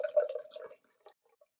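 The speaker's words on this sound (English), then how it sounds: "Do you think it's going to turn into wine when I pour it out?" Liquid poured out of a jug gives a short, close, gurgling and splashing pour that fades into a few faint drips.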